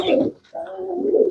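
An old-breed tumbler pigeon in Bangalore gives soft, low, throaty coos, close and clear, two rolling calls separated by a brief pause, with a faint voice nearby.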